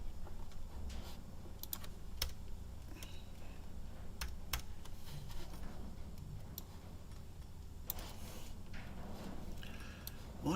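Irregular clicking keystrokes on a computer keyboard, sparse taps and short bursts over a low steady background hum, fairly quiet and close, with no clear speech.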